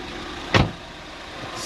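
A Ford Fiesta ST engine idles steadily nearby after an injector replacement, with a single short thump partway through.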